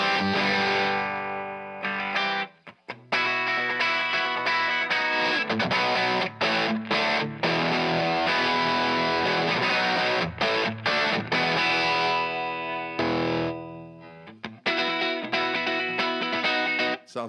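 Electric guitar pushed into power amp distortion through an attenuator, playing dense, saturated chords and riffs loud and alone, with brief pauses and cuts between phrases.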